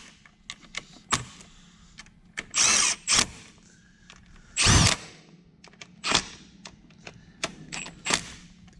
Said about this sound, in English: Just going around, doing the old Milwaukee cross torque.